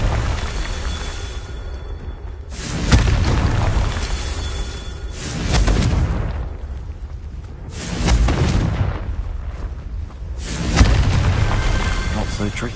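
Repeated Confringo explosion spells in the Hogwarts video game land as four heavy booming blasts spaced a few seconds apart, each one swelling and then rumbling away.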